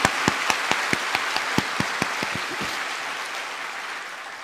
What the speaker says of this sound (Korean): 우리 격려의 박수